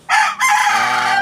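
Gamefowl rooster crowing up close and loud, one strong drawn-out crow with a brief break near the start.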